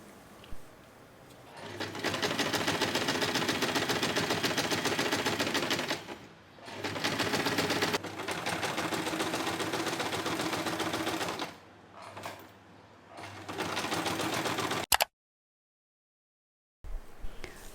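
A sewing machine topstitches along the zipper edges of a scrap-fabric pouch, running in long steady rapid-stitching stretches with brief pauses between runs, close and loud, then stopping before a short silence.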